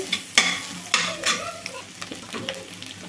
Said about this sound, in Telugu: ముందుగా వేయించి పెట్టుకున్నాం కదండి ఎగ్ని, అవి వేసేసుకోవాలి. ఒకసారి బాగా కలుపుకోవాలండి.